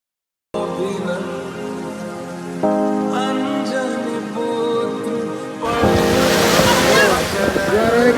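Sea waves wash on the beach at Rameshwaram as a broad, loud surf roar in the final seconds, after a tonal musical passage that opens following brief silence.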